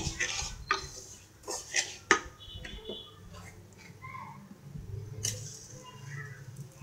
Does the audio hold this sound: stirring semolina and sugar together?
yes